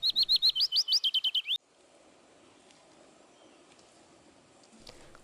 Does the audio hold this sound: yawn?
no